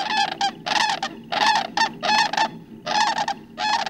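Greater sandhill cranes give loud, rolling, rattling bugle calls in repeated bursts, close and clear with short pauses between phrases.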